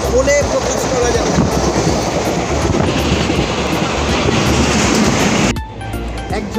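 The Kolkata to Haldibari superfast express running, heard from inside as a loud, continuous rumbling roar with faint rhythmic clatter that drops away sharply near the end.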